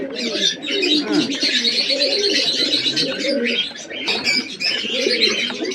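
Soft, overlapping cooing and chirps from young Kaldoma and fantail pigeon chicks, close and continuous, with bubbling low coos under higher peeps.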